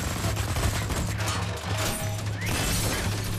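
Dense, continuous gunfire from the shooter video game Wolfenstein: The New Order rattles in sustained bursts with sharp cracks and crashing impacts, loud and close throughout.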